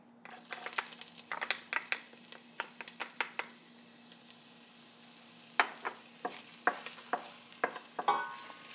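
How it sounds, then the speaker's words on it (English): Ginger drops into hot shimmering oil, setting off sharp crackles and pops in irregular bursts that fade into a quieter stretch before flaring again, close and loud with a faint steady hum behind. "I'm going to put in my ginger now."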